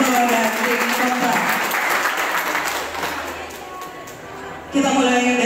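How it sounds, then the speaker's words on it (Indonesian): Audience applause for the pro and con teams at a school debate fills the start, then thins and fades. Near the end voices rise over it. "Kita beri tepuk tangan dari Pro dan tim kontra."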